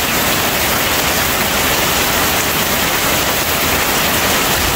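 Loud, constant rain falling close by, a thick even hiss of drops with no talking.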